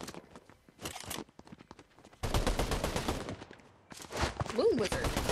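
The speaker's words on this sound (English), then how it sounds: "Oh, someone's shooting at me." Gunfire bursts and single shots from an online multiplayer video game, several uneven volleys in the mid-distance, partly under a player's excited talking.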